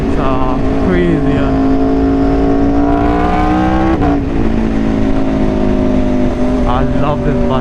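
A motorcycle, a 2014 Aprilia RSV4R, being ridden with its engine revving and pitch sweeping up through quick-shifter gear changes, a sharp shift break near the middle, loud and close with wind noise throughout.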